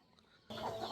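Caged village chickens break into a brief, close cluck after a moment of near silence.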